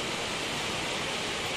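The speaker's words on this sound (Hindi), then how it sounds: "ये वापसी के दौरान कोहरे में छिपा हुआ पार्वती झरना, कैमरा इसकी पूरी भव्यता को अपने भीतर नहीं समेट सकता।" Distant Parvati waterfall hidden in fog in the Shrikhand Kailash valley, a steady, dense broadband roar of falling water with no other sounds.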